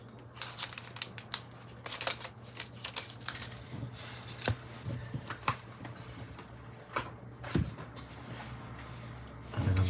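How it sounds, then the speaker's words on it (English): Scissors snip the end off a strip of paper at a craft table while making watercoloured flower embellishments, giving a series of crisp, close cuts scattered over a quiet room background with no talking. "And then I'm going to snip the end off that."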